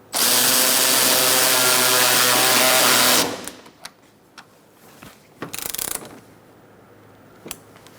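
A ratchet or power tool runs steadily for about three seconds while tightening bolts on an AC condenser of a 2014-2019 Kia Soul 1.6L, then stops, followed by scattered faint clicks and handling taps.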